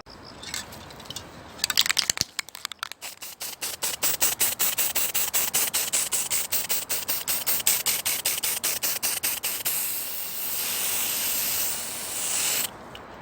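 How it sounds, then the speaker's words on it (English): Steady hissing of a spray paint can, pulsing in rapid short bursts for several seconds before settling into a continuous spray, close by, painting a toy lantern at a spray paint stand in a prop shop. "let's spray paint this down"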